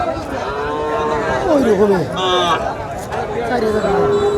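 Cattle low amid a busy crowd at a cattle market in Nilphamari, a drawn-out moo rising over steady overlapping chatter of many people nearby.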